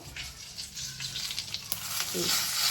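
Ground masala tipped onto roasted brinjal in a hot pan gives a steady, close hiss of frying with light stirring scrapes, rising toward the end.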